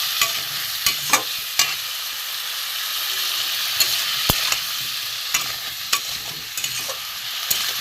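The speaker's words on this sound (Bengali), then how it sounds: "লঙ্কার গুঁড়ো চিনি দিয়ে এটাও কষে নেবো ভালো করে" Spice masala with chilli powder and sugar fries in a pan, a bright continuous sizzle punctuated by repeated clanks and scrapes of a spatula stirring, close up and with no speech.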